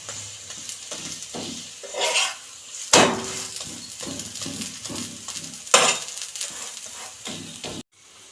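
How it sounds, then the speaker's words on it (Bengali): Aloo paratha fries in a hot pan with a continuous crackling sizzle, while a spatula scrapes and clatters against the pan in several sharp bursts. No one speaks. "এইভাবে আমি সব কটা ভেজে নেব পরোটা"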